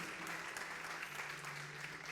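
Church congregation applauds during a Sunday afternoon service, a faint, steady patter of clapping heard from a distance with a low hum underneath.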